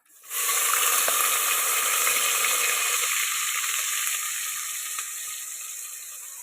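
Onion-garlic paste hits hot oil in a pan over a village wood-fired stove for goat mutton curry, bursting into a loud, steady sizzle that settles slightly but keeps crackling close up throughout.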